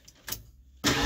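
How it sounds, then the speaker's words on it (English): A Ford Pinto engine cranks over on its starter, powered by a battery relocated to the back; a few faint clicks and knocks are followed by a loud, close burst of churning starter noise near the end. "It cranks over nice and smooth, and just as strong as when it was sitting up there"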